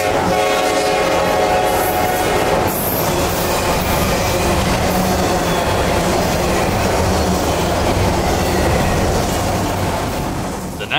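A Norfolk Southern freight train on the CNO&TP line near Nemo sounds its horn loudly and close, then continues rumbling past with steady rail noise and clattering cars.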